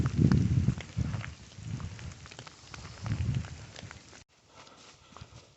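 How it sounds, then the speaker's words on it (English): Hailstones falling on an Appalachian Trail mountain crossing, coming in heavy irregular bursts of hard close impacts before dropping abruptly to a fainter patter. "And now it's getting hail. This is hailstones."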